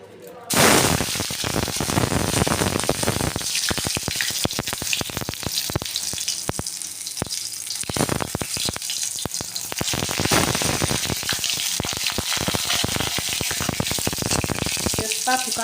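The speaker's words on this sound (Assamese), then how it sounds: "তেজপাত, শুকান জলকীয়া, 5 ফোৰণ আৰু গোটা জিৰা অলপমান ঢালি দিছোঁ।" Bay leaf, dried chilies, five-spice panch phoron and whole cumin hit hot mustard oil in a kadai, crackling and sizzling loudly and continuously with sharp popping bursts.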